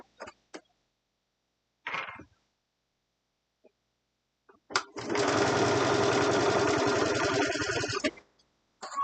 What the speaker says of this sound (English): So I've stitched on the seam.